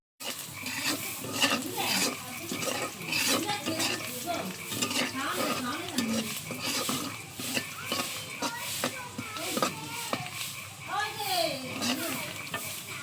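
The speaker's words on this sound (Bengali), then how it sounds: "আমাদের কড়াই গরম হয়ে গেছে, আমরা তেল দিয়ে দিচ্ছি। তো আমরা এখন দিয়ে দিচ্ছি পেঁয়াজ এবং শুকনো মরিচ।" Onion and dried chili hit hot oil in a wok over a clay stove, giving a steady crackling sizzle with repeated clinks of a stirring utensil against the pan, while a voice chatters in the background.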